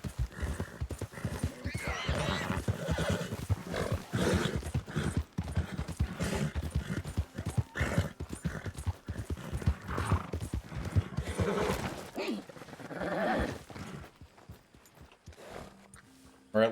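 Hooves clip-clop steadily while horses neigh and whinny in the video game Red Dead Redemption 2, with voices talking over them at times.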